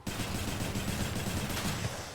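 Rapid gunfire from a weapon in the video game Hades, a dense, continuous stream of shots rattling steadily for a couple of seconds, loud and close with no talk over it.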